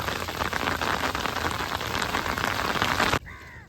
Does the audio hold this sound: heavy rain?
yes